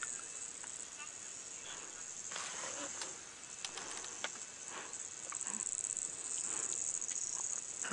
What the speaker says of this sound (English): The only other things we can hear are all the different insects.